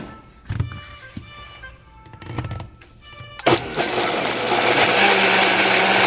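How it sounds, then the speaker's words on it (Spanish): A few thumps and clicks while the jar is settled and the blender is started, then the motor roars loudly and steadily as it purees walnut nogada sauce with sugar and salt. "Entonces volvemos a licuar."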